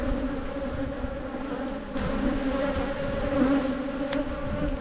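Honeybees buzz in a steady, dense drone at an opened backyard hive full of nectar and pollen, close and continuous, with no voices.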